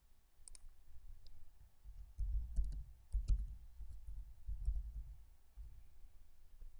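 A computer mouse gives a handful of faint, sparse clicks, spread unevenly over a quiet background rumble.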